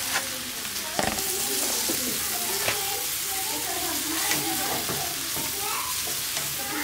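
Omelette noodles fry in a pan with a dense, steady sizzle, broken by scattered clicks and scrapes of stirring throughout.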